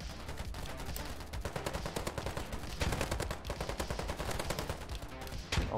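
An AK-74M rifle firing in the video game Ironsight: rapid automatic bursts of sharp, closely spaced gunshots, loud and steady throughout with only brief pauses between strings of fire, no voices.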